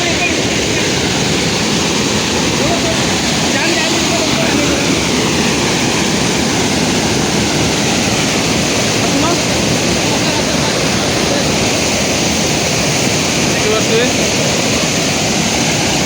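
A waterfall beside a coffee garden roars loudly and continuously as a dense, unbroken wash of falling water from start to finish.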